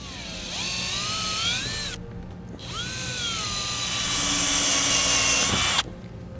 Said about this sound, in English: I'm going to drill these 2 holes out with a 5/16 inch bit.